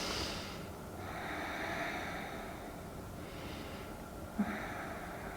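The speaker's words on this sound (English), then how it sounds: "And breathe." Slow, deep breaths drawn in and let out during a yoga stretch, close and soft, with two long exhales, under a faint background hiss.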